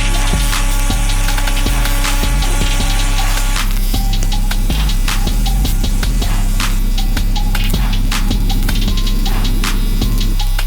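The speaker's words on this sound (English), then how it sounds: "In this video, the thick oxide scale on the metal surface is being cleaned." A pulse laser cleaning machine strips thick oxide scale from a metal surface, giving a steady electrical hum with a tonal whine, then a rapid crackling series of sharp ticks after a few seconds, loud and continuous.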